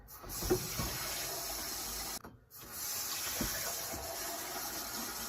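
Water is poured to fill a Berkefeld water filter on a kitchen worktop, making a steady close splashing flow that stops briefly for a moment and then resumes, with no talk.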